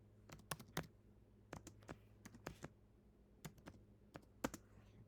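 Keys tapped on a computer keyboard while entering text into an Excel spreadsheet, irregular clusters of quiet, close clicks with short pauses between bursts and no talk.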